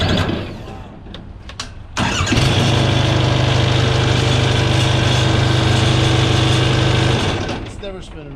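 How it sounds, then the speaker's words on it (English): A vehicle starter fitted with a new negative battery cable spins over fast and strong. A loud, even cranking drone holds for several seconds after a few brief knocks, and voices can be heard around it. "that starter's never hit like that before"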